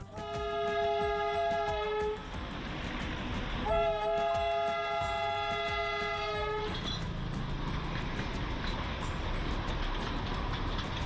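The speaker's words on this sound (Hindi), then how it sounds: "यहाँ की टॉय ट्रेन दार्जिलिंग का मेन अट्रैक्शन है।" A Darjeeling toy train sounds its horn in two long, loud blasts over steady rumbling rail noise, and the rolling clatter of the train carries on after the second blast ends.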